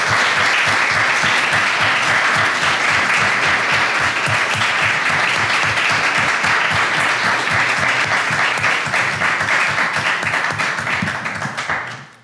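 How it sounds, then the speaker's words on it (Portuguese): Loud, sustained applause from a large audience recognizing a team, steady dense clapping for about twelve seconds that tapers off at the end. "para eles peço uma grande salva de palmas"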